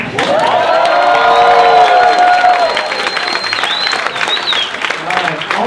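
Loud crowd at a Ron Paul 2012 presidential primary rally cheering, whooping and clapping, with shrill shouts and whistles over dense applause that eases slightly toward the end.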